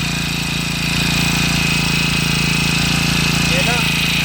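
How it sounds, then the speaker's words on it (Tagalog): A brand-new four-stroke power sprayer engine runs at a steady, loud idle with a constant low hum and rapid even pulsing throughout, close to the listener. "Itukan natin ang makina, bagong bago."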